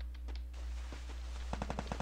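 Rapid gunfire in a shooting video game, a quick burst of sharp shots near the end after quieter scattered pops, steady low hum beneath.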